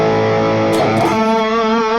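An electric guitar with heavy gain and distortion rings out in a thick, sustained tone, with a short pick scrape partway through.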